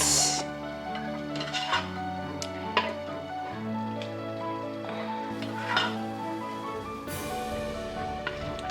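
Meat being stirred in a pot of okra stew, with soft scraping and clinking of a spoon against the pot and a few sharper knocks over a faint simmering sizzle, a tonal hum running beneath.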